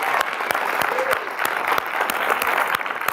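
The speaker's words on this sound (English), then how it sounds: "give this man a round of applause." An audience at a talk applauds a documentary film director with steady, dense clapping over a few seconds, a few sharper claps standing out near the front.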